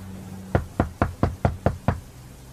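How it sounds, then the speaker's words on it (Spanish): Seven evenly spaced knocks on a door, loud and close, sounding alone over a low steady hum during a stormy night with a tornado alert. "Después de eso, volvió a golpear la puerta."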